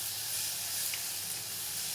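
Kollu poriyal ingredients sautéing in a pan, a steady close sizzle and hiss running evenly throughout with no talk.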